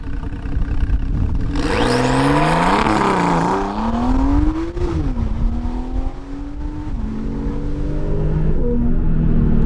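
A Porsche 991.2 Carrera S, rear-wheel drive with a stage 2 engine tune, accelerates hard from a launch, its loud engine note sweeping upward through several gear changes with a whooshing turbo tone, close and continuous.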